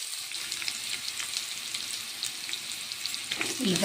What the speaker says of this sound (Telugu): ఉల్లిపాయలు అలా ఫ్రై అయినాయి కదండి